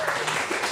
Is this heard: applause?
yes